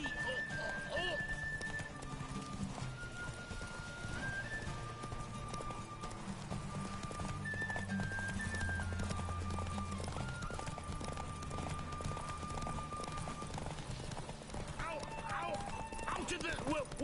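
A horse gallops in The Witcher 3: Wild Hunt with steady rhythmic clip-clop hoofbeats throughout, under game music and occasional character voices.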